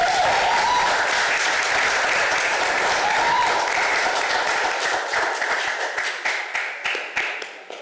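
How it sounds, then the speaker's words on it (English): A council meeting audience gives a big round of applause, dense and sustained for several seconds before thinning into a few scattered claps that fade out. "Another big round of applause."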